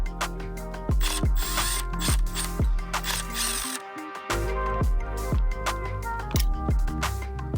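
A hand ratchet clicks in quick repeated bursts while removing the factory caliper bracket from a Honda CRF250F dirt bike, close and distinct, with a short pause midway before the cranking resumes.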